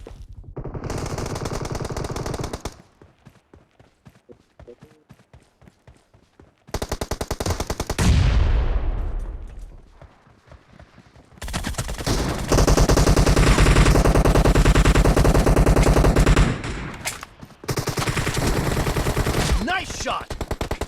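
Rapid automatic gunfire in a PUBG Mobile team deathmatch, with loud sustained bursts broken by short pauses, some single shots and a sweeping effect in between, all close and dense throughout.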